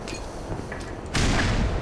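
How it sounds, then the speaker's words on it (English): A grenade blast in a Half-Life style shooter game erupts as one sudden loud boom after quieter game ambience, its rumble sustaining to the end. "I suck at throwing grenades"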